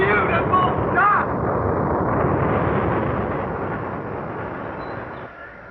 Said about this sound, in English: Lift off! It's going!